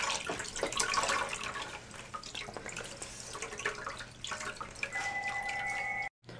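Water drips and splashes as a wet t-shirt soaked for glue tie-dye is wrung out by hand, a close, irregular patter of trickling liquid with a brief steady tone near the end.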